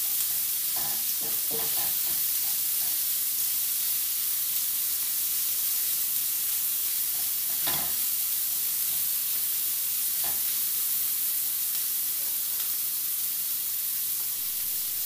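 Pre-boiled pork sautés briefly in a pan for stir-fried long beans, a steady, even sizzle with a few scraping stirs near the start and middle, no voices.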